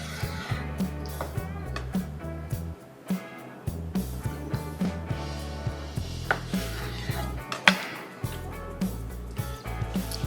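Knife slicing through an egg-and-sausage stuffed bratwurst on a cutting board, giving soft repeated cutting taps and board knocks in a steady rhythm, close and clear, with no talking.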